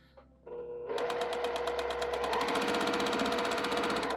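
A sewing machine stitches quilt pieces together, starting after a brief pause and then running steadily in a fast, even mechanical rattle, close and alone.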